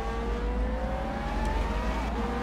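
A racing car in a VR sim racing game revs hard, its engine note climbing steadily in pitch as it accelerates, loud and continuous.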